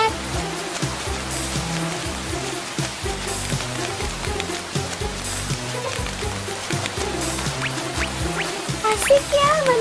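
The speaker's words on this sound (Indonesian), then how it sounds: "Tapi kan hujan nanti kita basah." Steady rain falls and patters throughout, a constant wash of noise beneath layered music or background sound, with no clear talking.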